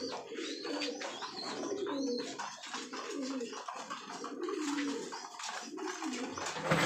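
Big-sized pigeons coo on a rooftop loft in repeated low rolling phrases, several birds overlapping at close range amid faint chirps and rustling.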